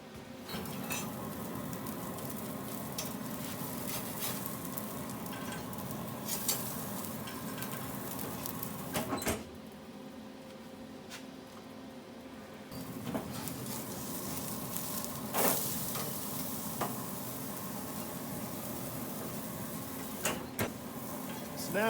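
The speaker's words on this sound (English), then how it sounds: "Hear the sizzle?" A T-bone steak sizzles steadily on an outdoor grill, a constant hissing crackle with occasional faint metallic clinks and brief dips in the frying noise.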